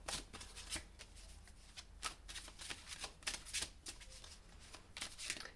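Tarot cards being shuffled for a reading, a continuous soft riffling and flicking of cards with quick irregular taps throughout, quiet and close, with no talking.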